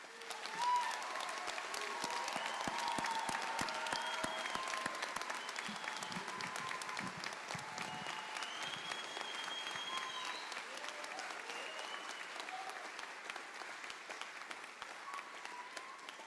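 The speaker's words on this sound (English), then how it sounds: "Let's give one more round of applause." Sustained, dense applause from the audience at a law school hooding ceremony, a steady wash of many hands clapping for the whole stretch, with some voices and cheers mixed in.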